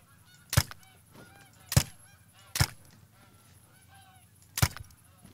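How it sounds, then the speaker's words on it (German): Four loud, sharp goose honks from a hunting video game (theHunter: Call of the Wild) at uneven intervals, each standing out clearly against a quiet, faintly hissing background. "sehen wir auch gerade schon die erste Gänsemannschaft hier"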